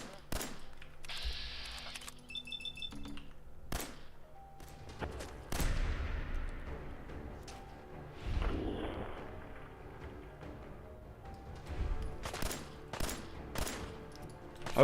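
Scattered single shots from a 10mm pistol in Fallout 4, fairly faint and irregularly spaced among quiet game ambience.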